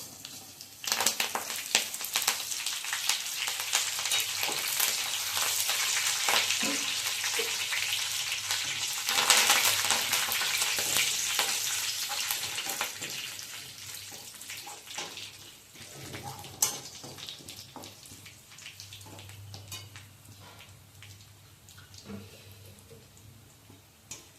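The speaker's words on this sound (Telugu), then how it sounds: "ఎల్లుల్లిపాయలు వేగినాయండి, ఇంకా అన్నీ వేసేసుకుందాం." Steady sizzling and spitting of garlic frying in oil in a pan, loud at first and gradually quieting, with occasional stirring clinks and no talking.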